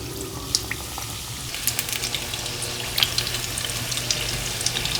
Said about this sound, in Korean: 튀김 소리 듣고 있으면 기분이 좋아져요